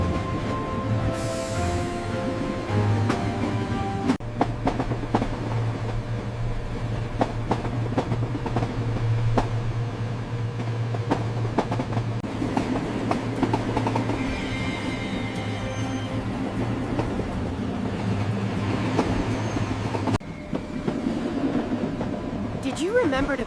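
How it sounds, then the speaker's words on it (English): Modern electric train drawing power from overhead lines through an urban corridor, a steady loud rumble with rhythmic clickety-clack of wheels and a passing whine, running continuously for over twenty seconds. "This modern electric train uses overhead lines to get power, moving quickly and smoothly through the urban corridor."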